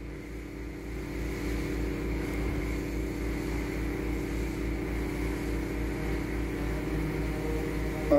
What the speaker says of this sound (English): And you can hear this horrible engine.